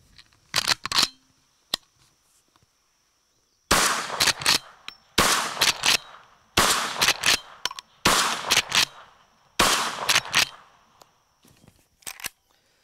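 Winchester Model 1892 lever-action carbine firing rapid shots in separate bursts, loud and close, each shot ringing out with a short echo, then a pause.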